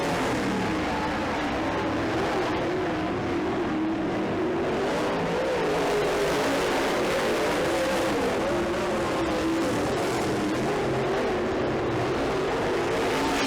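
Race cars lap a track in a steady, continuous engine roar, loud and unbroken, with leaders closing on back markers and no voices over it.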